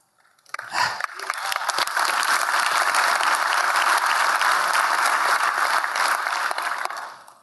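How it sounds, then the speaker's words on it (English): Sudden burst of audience applause during a technical conference talk, swelling quickly and holding steady for several seconds before tapering off at the end. "It's nice to be applauded for pinging"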